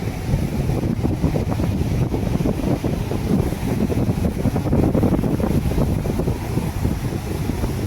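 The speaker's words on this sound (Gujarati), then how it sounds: "જુઓ ફેમિલી કેવા મોજા ઉઠાડ્યા છે" Surging sea waves churn around a moving boat, giving a continuous loud roar of wind and water with low rumble throughout and no talk.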